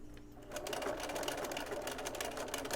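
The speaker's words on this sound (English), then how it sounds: "So I'm just going to kind of gently go over that tape or those teeth" A sewing machine stitches gently over zipper tape and teeth for a zippered head cover, running as a steady, close mechanical whir after a brief quieter start.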